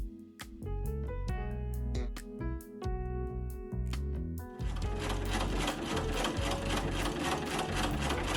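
A sewing machine top stitches the waist ties of an Edwardian blouse. A dense, steady mechanical whir comes in partway through, and plucked background music plays over the whole clip.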